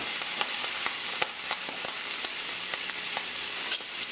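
Raw shrimp sizzling in a hot pan for Jamaican peppered shrimp, a constant bright crackling hiss dotted with sharp pops and spits, close and steady.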